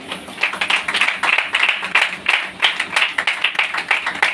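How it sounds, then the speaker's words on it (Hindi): An audience at a religious gathering claps for a daughter in a loose, rhythmic round of many hands, fairly close and loud, with no talking over it. "इस बेटी के लिए ताली बजाएंगे"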